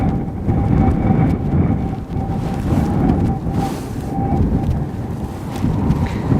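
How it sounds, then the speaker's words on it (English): Strong, steady gusting wind roars across an open hillside at Aberdeen Airport during Storm Amy, buffeting the microphone continuously with a faint tonal drone underneath. "The wind's coming from my right hand side when I'm standing on a hill."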